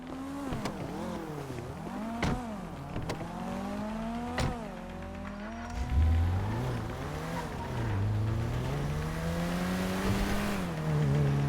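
A car driven in the video game GTA 5 revs its engine up and down in rising and falling sweeps, loud and close, with gear-change dips and no talking.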